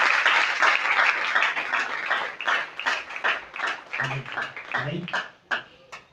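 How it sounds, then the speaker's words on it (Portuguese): Church congregation clapping during a worship service, a dense round of applause that thins into scattered individual claps, with speech mixed in over it. "Uma salva de palmas para Jesus e para o mulher,"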